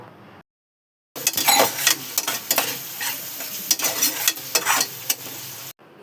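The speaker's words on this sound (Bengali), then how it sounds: "যতক্ষণ মশলাটা কষাচ্ছি" Spice masala with yogurt sizzles and frying in a pan, stirred with repeated scraping strokes after a brief silence, loud and close with no voices.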